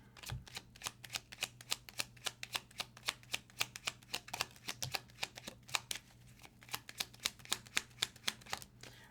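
Tarot cards being shuffled, a quick run of dry riffling flutters, roughly two per second at an even rhythm, close and soft with a faint steady hum behind.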